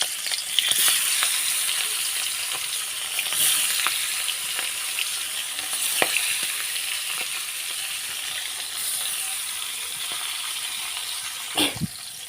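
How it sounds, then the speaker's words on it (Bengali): Hilsa fish pieces fry lightly in oil in a wok with a continuous close hiss and sizzle, dotted with small crackles and a couple of louder spatters. "এখন আমি এটা তেলে ভেজে নেব। চুলায় তেল দিছি, কড়াই দিয়ে তেল দিয়ে দিছি। এখন মাছটা দিয়ে দেব।"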